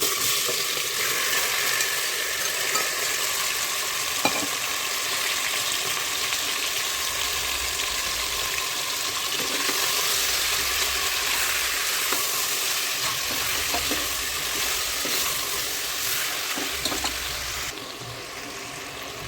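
Chicken hits hot gravy masala in a pressure cooker pot and fries with a loud, steady sizzle and hiss, with occasional stirring clicks and no talking.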